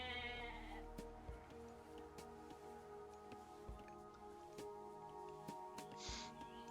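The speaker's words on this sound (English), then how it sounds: "Just finding some sheep." Sheep bleat faintly in an Age of Mythology 1v1 match, a few soft calls over quiet sustained game music and scattered small clicks.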